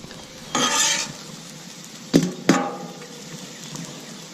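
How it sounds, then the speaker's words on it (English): A pat of butter hitting a hot Camp Chef 600 flat top griddle where shrimp are cooking: a burst of loud sizzle, then two sharp scrapes of a metal spatula, and a softer fry hissing underneath. "Now we're going to add our last pat of butter."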